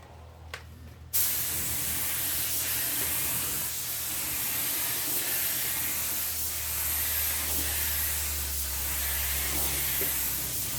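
A spray gun shoots clear coat onto car headlights, a steady loud hiss that starts abruptly after a brief quiet moment and runs unbroken to the end, with no voices.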